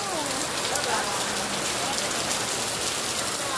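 Heavy rain pours in a dense, unbroken hiss, loud and close throughout, with a faint voice or two barely showing beneath the downpour.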